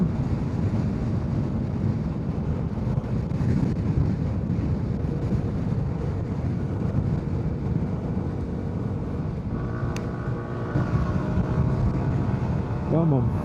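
Heavy, constant wind buffeting roars across a microphone on a 2025 Yamaha R125 motorcycle ride, loud and unbroken, with the bike's engine droning faintly beneath and a brief rising engine note near the end.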